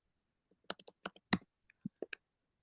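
Quick bursts of typing on a computer keyboard, about a dozen sharp key clicks in an uneven rhythm, close and fairly quiet, with no talking.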